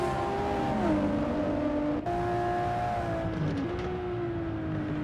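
Historic race cars in the Assetto Corsa racing game give a steady engine drone whose pitch climbs and drops through gear shifts, loud and continuous, with no voices.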